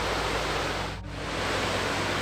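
Steady broadband roar of falling water from the Vălul Miresei waterfall in Romania's Apuseni Mountains, Cluj County, loud and continuous with a brief dip midway, no voices.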